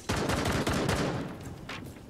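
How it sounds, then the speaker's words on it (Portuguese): Dense bursts of rapid gunfire in the video game Rainbow Six Siege crackle continuously, loud and close, with a few sharper shots standing out near the end. "Tomou tiro aí, Soley?"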